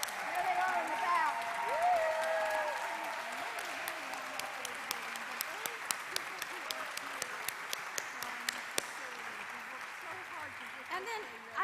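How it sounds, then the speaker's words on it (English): An audience applauds facilities staff at the Union Theological Seminary convocation, a steady broad wash of clapping under an amplified voice that talks over it throughout. "I just want you to stand up so we can applaud you"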